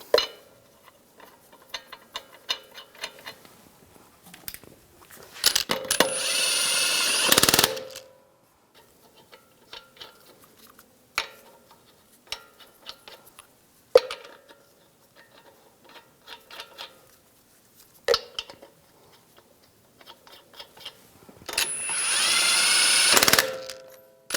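A power tool drives lug nuts onto a Ram 1500 front wheel in short rattling bursts, with clicks and clatter between them and two longer whirring runs, loud and close, with no talk.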